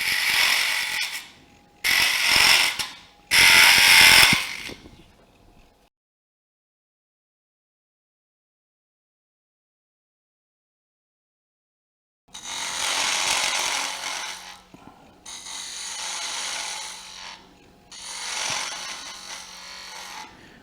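Wood being turned on a lathe with a spindle gouge, shaping a piece for homemade pen assembly tools: three loud cutting bursts, a long silence, then three more sustained scraping passes, close and without talk.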